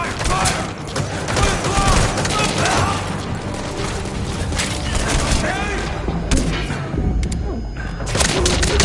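Dense, loud gunfire in a firefight, with overlapping shots and thuds packed together, voices shouting amid the noise.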